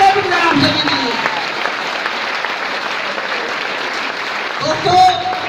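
Audience at a seminar in Guna clapping, a dense, loud burst of applause that carries on steadily, with a speaking voice heard briefly at the start and again near the end.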